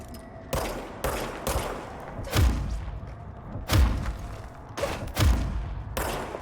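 Gunfire in the game Control, a series of heavy booming shots spaced roughly a second apart, each with a deep thudding impact and short tail, loud and close with no talk over them.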